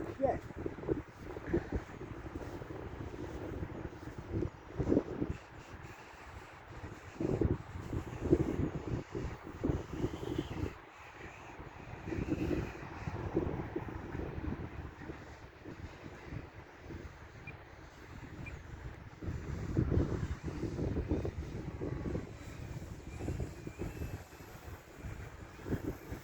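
Strong gusty wind buffets the microphone on a boat with an outboard motor, loud rumbling bursts rising and falling throughout, with people talking over it.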